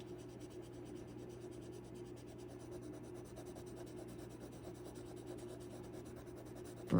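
A drawing tool burnishes a drawing with a faint, continuous close-up rubbing and scratching, accompanied by a low background hum, ending in a small bump.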